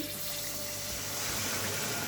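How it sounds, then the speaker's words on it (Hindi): A glass of water pours steadily into a pan of spiced Kashmiri tomato potato curry, a continuous close splashing rush with no talk. "इसके बाद हम डालेंगे इसमें 1 गिलास पानी।"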